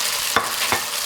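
Chopped scallions and glass noodles stir-fry in a wok, a steady hiss of hot oil broken by two quick scraping strokes of the spatula, close and fairly loud with no talking.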